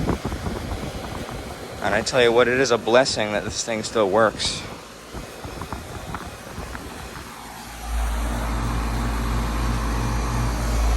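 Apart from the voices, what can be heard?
rusted 2002 Bryant Coastal central air conditioner running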